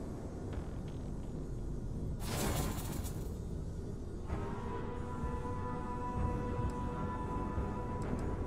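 The Gravity Wave power in Starfield sounds as a sudden broad whooshing rush with a rumbling low end, lasting about two seconds, followed by lingering tonal hum and faint effects.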